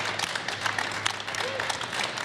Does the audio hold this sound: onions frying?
no